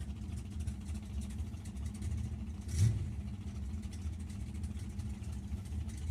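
Big Chevy drag racing cars, 585 and 565 cubic inch, idle with a low, steady rumble at a distance, swelling briefly midway.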